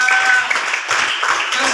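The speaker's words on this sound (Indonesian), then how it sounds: "Tepuk tangan." Students in a classroom clap together at the teacher's cue, a loud, continuous patter of many hands lasting a couple of seconds.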